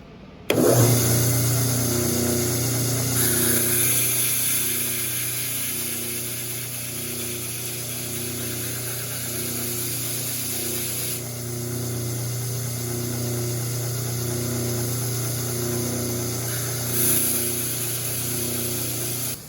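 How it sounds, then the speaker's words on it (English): A horizontal belt sander runs steadily as ukulele fret wire ends are ground flat along the fretboard edges, a loud continuous motor whine with a sustained abrasive hiss throughout, shifting slightly as the work is pressed against the belt. "horizontal belt sander and just hit these sides and get those fret wires so they're not poking out at all"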